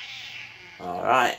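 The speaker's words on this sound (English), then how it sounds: "That's my cat. Say hello." Pet cat giving a short meow at close range, rising near the end after a brief spoken phrase.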